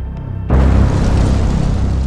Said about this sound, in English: A Prussian cannonball strikes a group of ammunition wagons.